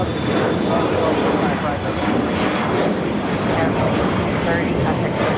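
An E-Jet airliner rolls for takeoff on runway 25 right at LAX, a loud sustained jet-engine roar with broadband rumble holding steady throughout.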